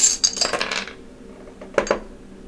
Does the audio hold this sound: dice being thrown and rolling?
yes